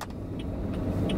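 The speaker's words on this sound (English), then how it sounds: "I'm gonna park my car." A car moves slowly through heavy traffic near a steel pan event in Barbados, its engine a steady close rumble with faint higher clicks, while the driver looks for a parking spot.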